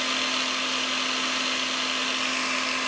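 A Nagawa NCG45U cordless brushless angle grinder runs at low speed with a steady, loud, even whine, spinning freely without pause.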